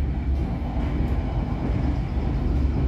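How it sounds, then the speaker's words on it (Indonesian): An economy train on the Joglosemarkerto line runs straight through Purwosari station without stopping, heard from on board as a loud, steady low rumble and rattle of wheels on rail, with no voices. "Ini kita melintas stasiun Purwosari."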